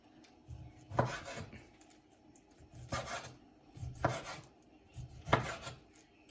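Boneless chicken being cut into small pieces with a knife for Kerala-style chilli chicken, four rhythmic chopping strokes on a board at steady intervals, close and moderately loud, with no talk.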